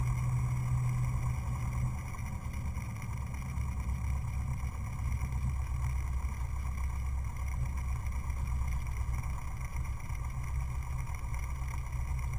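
A Cessna with a 180-horsepower engine and 15 degrees of flaps powers up for a short-field takeoff: a loud, steady engine drone with a constant tone runs throughout, heard from inside the plane with no talking.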